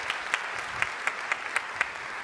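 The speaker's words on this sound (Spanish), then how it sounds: "Un aplauso para él." Audience applause at a conference talk, a steady wash of clapping with a few louder individual claps standing out at a regular beat, heard from within the crowd.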